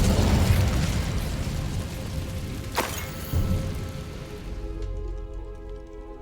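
A Confringo fire spell exploding in Hogwarts Legacy, a loud crackling blast with a sharp burst near the middle, then a rumbling tail that fades away, no voices.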